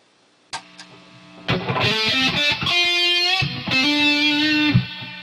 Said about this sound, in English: And then here I have a crank distortion pedal.